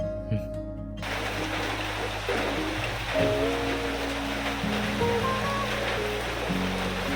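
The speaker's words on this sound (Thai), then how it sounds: "ฝนก็ตกลงมาแบบว่า ลมทลายเลย" Heavy rain pours down with strong wind at a mountain lodge in Pang Mapha, Thailand, a dense continuous rushing roar, with a voice speaking over it.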